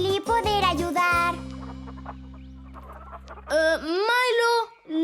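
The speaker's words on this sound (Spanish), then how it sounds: "Las gallinas están aquí." Cartoon farm chickens cluck in bursts of loud, bright calls at the start and again near the end, with a sustained musical tone and a light jingle in between.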